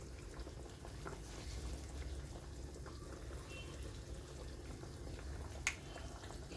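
Hot water poured into upma in a pan, a steady low liquid rush and bubbling running evenly throughout with a small sharp click near the end.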